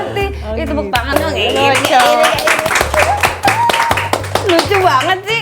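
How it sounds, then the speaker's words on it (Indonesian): Sharp hand claps ring out in quick bursts beside a child's chatter and a singing, musical voice, close and fairly loud over a home living-room scene. "Itu tepuk tangan dong."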